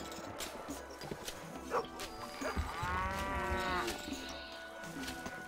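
Cows moo in the video game Stronghold HD, a drawn-out lowing call rising out of busy game ambience with scattered clicks and effects.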